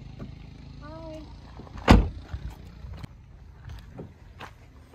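Someone gets into a car: light shuffling and clicks, then one loud, close door-like thump midway, followed by softer knocks and movement. A brief tonal sound comes just before.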